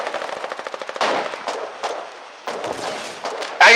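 Gunfire in the Foxhole war game, a rapid close burst of automatic shots followed by heavier separate blasts and scattered bangs, with a loud final crack.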